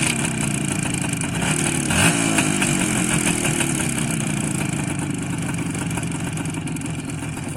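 An engine fitted with exhaust baffles runs steadily at a loud, rough idle, close and constant throughout with a brief rise around the middle, no talking.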